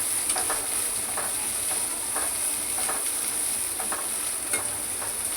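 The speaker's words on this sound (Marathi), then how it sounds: "आपण त्याच्यामध्ये टाकणार कोथिंबीर धुवून घेतले, चिरून घेतले" Washed, chopped coriander sautéed in a pan for suran bhaji, a soft continuous sizzle with faint scraping stirs recurring every second or so, alone with no voices.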